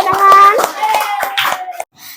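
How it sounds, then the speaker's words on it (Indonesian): Children in a sixth-grade classroom clap in a short rhythmic pattern, sharp hand strikes mixed with a voice and tonal chatter, ending abruptly before a brief quiet. "Tepuk tangan ya."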